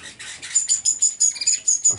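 Parrots and other cage birds chirp in a rapid, high-pitched run of short tweets and calls, close and fairly loud, with a thin sustained whistle threading through, alongside quail kept in cages.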